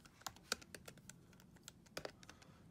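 Typing a search on a computer keyboard: quiet, irregular key clicks close by, with a few sharper presses standing out.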